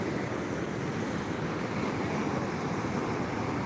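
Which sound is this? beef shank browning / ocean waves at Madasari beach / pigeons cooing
ocean waves at Madasari beach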